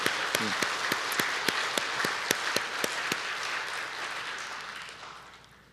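A church congregation claps in thanks for its ordained deacons and deacons. Sharp, distinct claps ring out early, then the applause thins and fades away.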